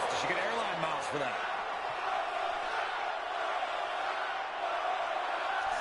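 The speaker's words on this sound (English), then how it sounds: "The fans are chanting for one more" A crowd of fans chants and roars continuously at a live event, a dense, loud wash of voices filling the space with little variation, plus a couple of brief shouts near the start.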